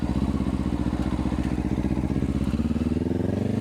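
Motorcycle riding on a road on Detroit's island, a rapid steady engine pulse chugging close and loud throughout, with no speech over it.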